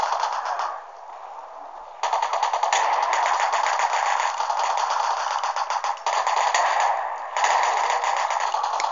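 Rapid automatic gunfire from the video game Resistance: Burning Skies on PS Vita rattles in dense, continuous bursts with brief lulls, heard through a thin, tinny device speaker.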